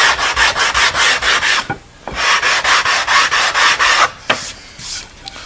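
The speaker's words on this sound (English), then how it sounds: "just a good block with a piece of sandpaper on it, and sand like this to take off your saw blade marks" Rhythmic back-and-forth rasping of sandpaper on wood, loud and close, with a couple of brief pauses and knocks between strokes.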